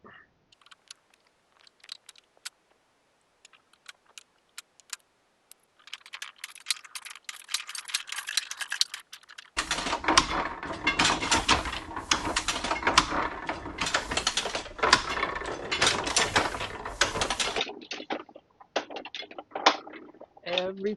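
Letterpress printing press with rollers spreading cool gray ink across the disc, a steady mechanical rattle and ratcheting clatter that starts faint and sparse, then becomes loud and continuous before easing off near the end.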